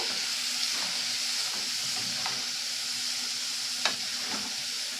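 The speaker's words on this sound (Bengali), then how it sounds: "তো আমি ভালো করে নেড়ে নেব, পেঁয়াজগুলো দিয়ে পোস্তর সঙ্গে মিশিয়ে নেব" Onions are stirred into poppy seeds frying in a pan for peyaj posto, giving a steady, even sizzle with faint scrapes of the spatula.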